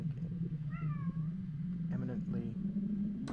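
A cat meows twice in quick succession, clear and close, over a steady low hum, with a short sharp sound at the very end.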